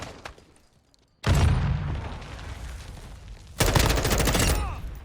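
M4A1 bursts pre-firing in Modern Warfare 2 multiplayer: two loud sustained volleys of rapid automatic fire, close up, separated by a short quiet gap, with a heavy boom at the first burst's onset.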